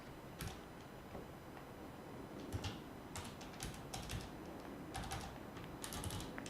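Keys pressed on a computer keyboard: scattered, faint clicks and taps in irregular bursts, close but quiet over a steady background hiss, with no voices.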